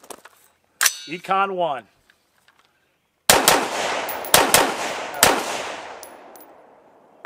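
Rifle gunshots at an outdoor range during a recoil and double tap test: a short spoken phrase, then three loud sharp cracks at close range spaced about a second apart, each with a ringing decay.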